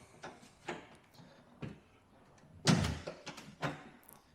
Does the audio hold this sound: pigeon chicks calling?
no